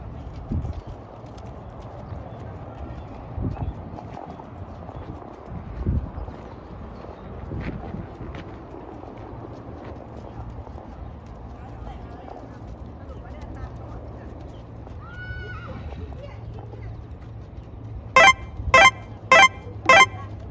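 Horse hooves clip-clop on a samurai-themed riding outing in Osaka, Japan, steady footfalls under outdoor background noise, followed near the end by a short burst of four sharp, loud repeated honks or calls.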